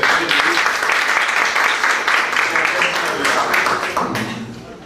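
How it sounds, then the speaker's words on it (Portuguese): Close, loud applause at a political campaign event where candidates speak about public health care, a brisk continuous clapping that tapers off at the end. "Vou me dar o direito de aplaudir"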